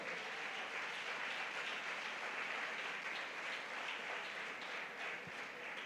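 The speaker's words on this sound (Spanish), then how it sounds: "Si le va a aplaudir, apláudale fuerte" A church congregation claps loudly and steadily in a sustained, even round of applause with no talking over it.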